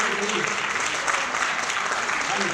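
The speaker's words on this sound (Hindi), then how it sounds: "तो इसके लिए बहुत शानदार ताली हो जाती है" Audience applause in a hall, dense and steady from start to finish, with many hands clapping at once and no break.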